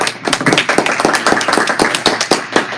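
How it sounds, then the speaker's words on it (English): Audience at a compliance and information-law conference claps for panelists, a short, close burst of sharp individual hand claps from a modest group, no talk over it. "I want to thank all of our panelists and ask for a round of applause."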